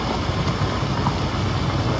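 A steady, rumbling idle-like engine hum comes from a Swaraj 855 V8 tractor in Farming Simulator 19, working with a plow, cultivator and heavy trailer. It is loud and close, and no one speaks.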